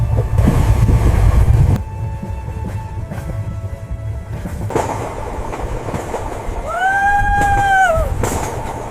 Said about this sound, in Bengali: ট্রেন ধীরে ধীরে পাহাড়ের মধ্যে দিয়ে এগিয়ে যাচ্ছে।